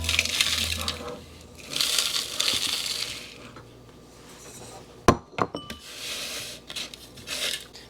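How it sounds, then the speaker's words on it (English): Food processor blades crushing graham crackers with butter for a cheesecake crust, coarse grinding bursts rising and falling across the clip with a few sharp clattering knocks midway. "we're just going to put this in the food processor"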